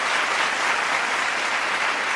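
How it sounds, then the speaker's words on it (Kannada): Loud, dense applause from a crowd at an award ceremony, continuous and even throughout with no voices over it. "ಮತ್ತೊಮ್ಮೆ ಜೋರಾದ ಚಪ್ಪಾಳೆ"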